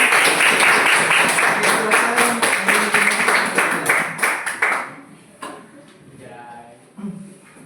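A classroom of students claps for a presenting group during a teaching practice lesson, a dense burst of hand claps for about five seconds that then fades into quieter room noise and scattered sounds.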